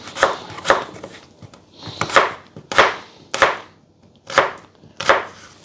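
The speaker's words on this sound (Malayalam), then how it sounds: "നമുക്ക് അതിനെ ഇങ്ങനെ ജൂലിയൻ കട്ട് ചെയ്യാം" A knife julienne-cutting mango for a salad on a cutting board gives crisp, close chopping strokes, often in quick pairs, repeating in an uneven rhythm with short gaps and no talking.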